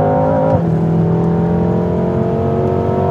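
BMW M6 Coupe at full throttle on a race track chasing a BMW M5, with a loud, sustained engine roar and a steady whine from the drivetrain. Near the start the pitch drops sharply, as on a gear change, then the revs build steadily again.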